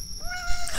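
A cat meows in a Chilla's Art bathhouse horror video game: one rising, drawn-out mew that is fairly faint and set against a steady low hum and other game ambience.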